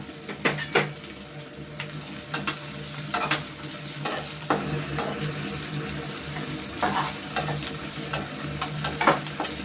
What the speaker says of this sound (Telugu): ఏగిన దాంట్లోనండి ఉల్లిపాయ ముక్కలు వేస్తున్నాయండి